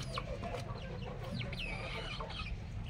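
Backyard chickens being treated for a respiratory illness cluck and chatter softly while drinking, with several overlapping bird calls, short high squawks and a low rumbling background.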